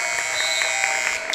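A loud, sustained electronic buzzer blares across a women's college basketball gym during a playoff game, a harsh continuous tone heard above faint arena noise.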